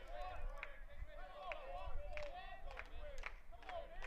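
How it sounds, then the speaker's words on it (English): Scattered hand claps come from the Bruins dugout at a college baseball game, BJU Bruins against Defiance College, with dugout chatter running over a steady crowd murmur. The claps are fairly close and land every second or so. "Chatter from the Yellowjackets dugout, clapping from the Bruins"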